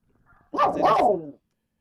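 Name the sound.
dog barking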